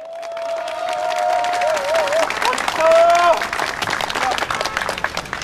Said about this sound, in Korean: 모두 함께 큰 박수와 함성으로